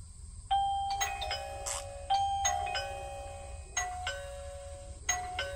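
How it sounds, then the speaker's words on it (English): A rechargeable smart video doorbell chime rings out in several bright electronic ding-dong tones, repeating multiple times in a quiet room. "You're gonna hear it from the doorbell alarm over here, and it's also gonna come through your phone."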